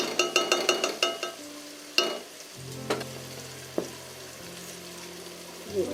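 Tomatoes sauté in a pan for a Kerala-style prawn roast, a close, steady sizzle broken by sharp clicks and clatters of a spoon stirring against the pan.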